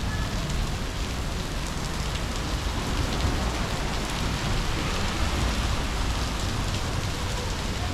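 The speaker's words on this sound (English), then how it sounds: "the water's kind of dripping through it, but luckily we have that cool rain guard right there" Rain pouring and dripping onto a plastic rain guard over a street in Taipa Village, Macau, a dense, steady hiss of drops that stays loud and even throughout, with no voices.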